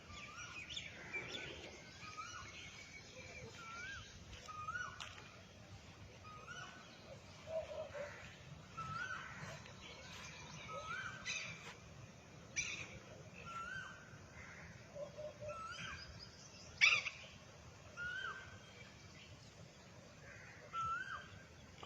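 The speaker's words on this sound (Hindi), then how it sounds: "और पक्षियों की आवाज़ें सुनाई दे रही है।" Birds chirp and call in scattered short bursts around a quiet park in Kurukshetra at about six in the morning, with an occasional crow's caw, moderately near over a low steady background hum.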